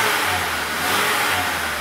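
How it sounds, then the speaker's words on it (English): A Honda Civic engine with a stalling-at-idle fault held at raised revs under throttle, a loud, steady mechanical roar up close with a slight rise and fall. "If we give it some throttle, it runs decent."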